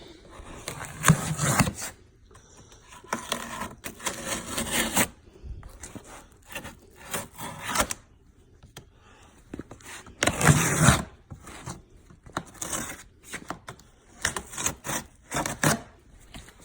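A knife saws and slits through a cardboard box holding a subwoofer, giving irregular rasping, scraping bursts separated by short pauses, close and moderately loud.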